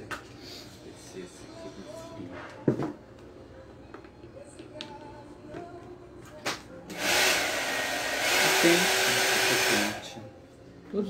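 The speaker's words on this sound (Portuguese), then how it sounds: "Você quer que eu pegue um secador pra você?" A hair dryer switches on and blows with a loud, steady hiss for about three seconds, then cuts off, used to dry vintage crackle-finish picture frames; quiet handling noises and taps come before it.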